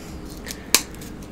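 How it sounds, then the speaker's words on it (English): A single sharp snip from a pair of brand new scissors cutting during a seafood boil, preceded by a softer click, short and close against quiet room noise. "These are brand new scissors too."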